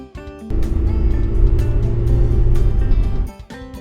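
A car driving nearby, its engine a steady low roar lasting about three seconds before dropping away, with light music around it.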